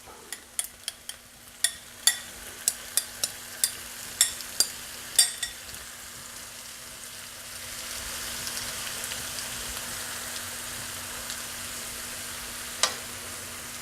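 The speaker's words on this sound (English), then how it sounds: "Give one last stir." A tomato dish is stirred and spread over eggplant and tofu in a pan: a run of sharp, regular scrapes and taps of a utensil, then a softer steady sizzle with an occasional clink.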